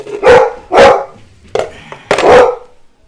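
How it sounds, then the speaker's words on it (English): A dog barking indoors in a kitchen where sweetcorn is being canned: four sharp, loud, close barks in an uneven rhythm, with no talking. "dog decided to start barking"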